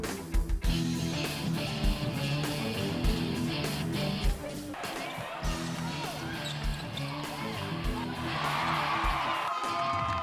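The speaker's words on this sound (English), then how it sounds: "The crowd is live. Crowd is so live, and every time we get something going, they get even louder." Lively crowd at a St. Louis Surge women's basketball game, cheering and whooping through steady arena noise, with a ball bouncing rhythmically on the court and swelling louder near the end.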